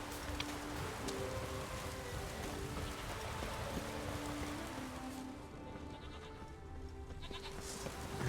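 Goats bleating in the video game The Witcher 3: Wild Hunt, several drawn-out bleats at a moderate distance over a steady patter of rain, with no talking.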